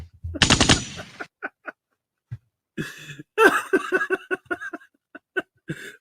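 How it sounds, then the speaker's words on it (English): A burst of rapid gunfire plays as a sound effect on a live stream, loud and brief at the start, followed by scattered laughter and giggling. "You can't just play no damn gunfire and them not know what the hell is going on, dude."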